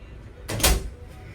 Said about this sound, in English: You can't pull it shut, so I guess you have to wait like 10 minutes for the door to shut.